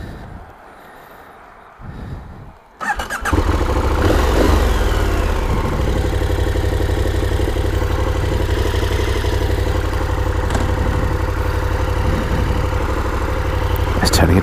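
KTM 1290 Super Adventure T motorcycle engine starting up and pulling away, a steady loud engine drone with wind noise that persists throughout after a quieter opening.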